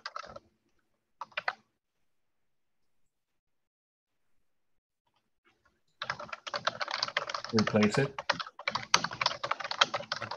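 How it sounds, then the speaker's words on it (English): Clacky keystrokes from a mechanical computer keyboard come through an online meeting call: two brief bursts at first, then a few seconds of silence, then dense, continuous typing, with a voice speaking briefly. "your typing is really audible"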